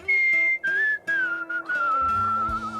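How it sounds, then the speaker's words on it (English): A hobo skeleton character in a video game whistles a clear, wavering tune, several sustained notes sliding down in pitch, close and alone over faint background music. "Is he supposed to be whistling to the song in the background?"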